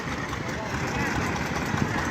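A tractor engine runs with a continuous, even rumble during a slow tractor race at a county fair, holding steady without breaks.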